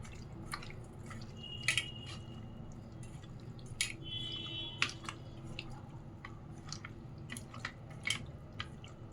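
Prawns being mixed by hand with fine salt and turmeric for a Koliwada-style marinade: soft wet squishing and sticky, dripping clicks scattered irregularly, close and fairly quiet over a low steady background hum.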